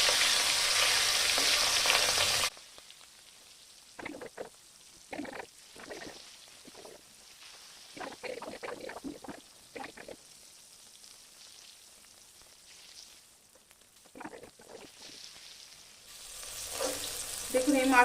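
Katla fish sizzling in hot oil, with a loud burst of frying at the start, a quieter stretch of soft crackles and pops, then the sizzle swelling again near the end.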